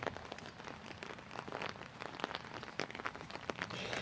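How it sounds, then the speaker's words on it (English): Rain falling outdoors in the United Kingdom, a dense, steady patter of drops hitting surfaces close by, with sharper individual splashes scattered through it and no voices. "it's raining very nicely"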